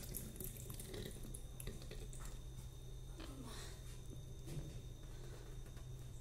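Rice washed by hand in water, soft sloshing and squishy swirls with small splashes, close and quiet over a low steady hum.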